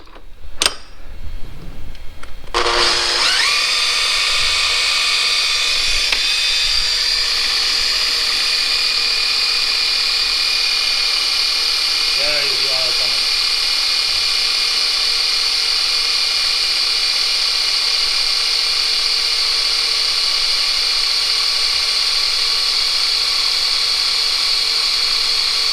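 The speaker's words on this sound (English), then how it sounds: "So I will put 12 volts on here, and then I'm going to pump the air out that's in there." Custom hydraulic suspension pump on a Mercedes W124 running on 12 volts, a loud, steady electric whine with a high tonal hum that starts after a few seconds of quiet clicks and holds nearly constant throughout, no speech.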